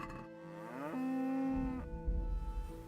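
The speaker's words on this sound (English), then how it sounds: "You can clearly hear them mooing." Cattle in a video game moo in a long, drawn-out call that rises and then holds, followed by low rumbling game noise. No one speaks.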